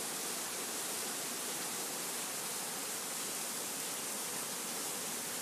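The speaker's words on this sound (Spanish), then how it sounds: "El río viene hasta acá." A flooded river rushes in a dense, unbroken roar of water, loud and uniform from start to finish with no voices.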